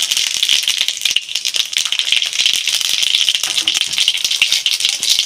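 Dry red chillies and whole cumin seeds tempering in hot mustard oil, a dense, steady sizzling crackle with rapid pops, close and fairly loud throughout, no voices.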